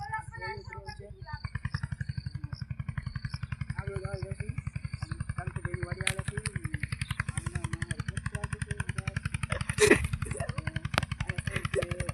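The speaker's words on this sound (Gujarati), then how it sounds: "અહીંયા ટ્રેક્ટર ચાલુ છે" A tractor engine runs in a farm field with a steady, fast thudding beat that continues unbroken for the whole stretch, moderately close, while voices talk over it and occasional clanks cut in.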